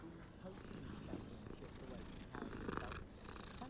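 A cat purrs in a fantasy wizarding-school video game, a soft steady rumble running under continuous background music and game sounds, with people talking over it at times.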